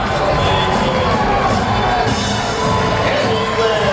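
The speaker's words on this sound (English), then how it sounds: "a big roar went up in this crowd" A dense crowd roars and cheers at the Lazio campaign headquarters on New York Senate election night, a loud sustained wall of shouting, whoops and applause with no break.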